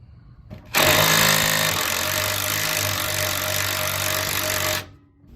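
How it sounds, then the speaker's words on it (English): An impact or power wrench with a 16 mm deep-well socket backs off a sway bar link nut on a truck, a loud continuous rattling buzz for about four seconds that starts and stops abruptly. "You're gonna get yourself a 16 millimeter deep well. Back that nut off."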